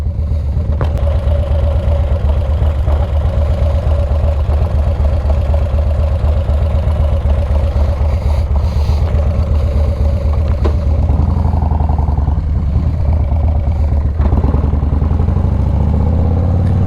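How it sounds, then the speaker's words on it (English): A motorcycle left running while stopped along the Pacific Coast Highway, its engine idling in a steady, low, rumbling throb that stays close and constant, with faint clatter and no talk. "I won't even shut the bike off."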